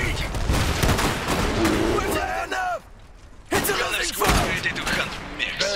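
Rapid gunfire and explosions in the real-time strategy game Iron Harvest, with bursts of shooting, mechanical clatter and booms running almost continuously, mixed with in-game voice callouts.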